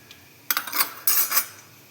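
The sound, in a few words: cutlery and pots while mixing food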